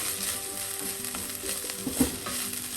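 Spring onion thoran sizzles steadily in a pan while it is stirred, a close, continuous frying hiss with soft scraping of the spoon and a small clink near the end.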